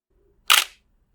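A Nikon D800 DSLR fires its shutter once, a single crisp, fairly loud mechanical clack in a quiet room, heard alone.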